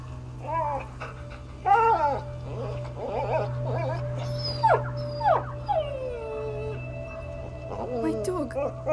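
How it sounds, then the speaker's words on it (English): A dog in the video game A Plague Tale: Innocence whimpers and lets out several pained yelps and a short howl, close and fairly loud, over a low steady hum with voices speaking now and then. "My dog!"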